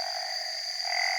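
Frogs croaking in a Thai rural area after heavy rain, a steady, dense chorus with sustained high trilling tones running continuously throughout at moderate loudness.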